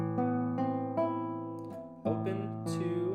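A sustained guitar chord from A Midsummer Night's Dream Suite, measure 57, rings with steady harmonic tones, restruck a few times and then strummed again firmly partway through, no talking.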